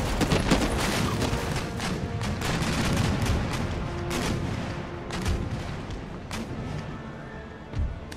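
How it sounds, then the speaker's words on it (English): Cannons fire round shot at a war galleon in an Empire Total War naval battle, a busy stretch of repeated booming shots and thuds layered over continuous battle noise. "now you're going to try and fire a round shot into the war galleon"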